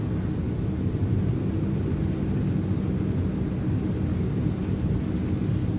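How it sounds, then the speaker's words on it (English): Transall C160 turboprop engines in Microsoft Flight Simulator, a steady loud droning roar with a faint high whine on top, holding constant throughout. "Going full flaps, giving more power."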